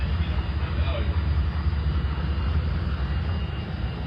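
PBY Catalina flying boat cruising over a lake, its engines giving a steady, loud droning roar heard from inside the cabin, unbroken for the whole stretch.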